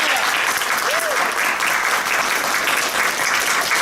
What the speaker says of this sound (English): can we give a round of applause to them for a great job this weekend?